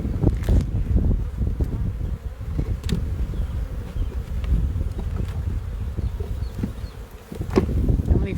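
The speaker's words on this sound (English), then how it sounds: "This is a 10 frame Langstroth style hive." Honeybees swarm around an open 10-frame Langstroth hive on the prairie, a loud, dense, continuous buzz close by with occasional faint knocks. The buzzing carries on throughout.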